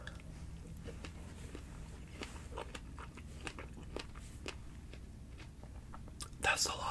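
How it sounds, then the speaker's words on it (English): Close, soft crunchy chewing of strawberries in an ASMR setting, with irregular wet bites and mouth clicks scattered over quiet room noise, ending in a louder crunchy burst. "Strawberries are done if you don't like chewing sounds."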